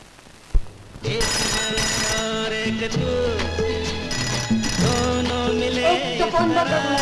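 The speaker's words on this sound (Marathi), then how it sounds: "कुणीतरी घ्या ना तो फोन" A telephone bell rings loudly and repeatedly indoors at home after a brief sharp knock at the start.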